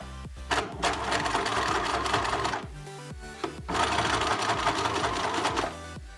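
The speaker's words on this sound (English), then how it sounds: "I'm just going to do a straight stitch, and this is basically just to hold it together." A sewing machine running a straight stitch on fabric for ruffles, a loud close mechanical whir in two long runs separated by a brief pause.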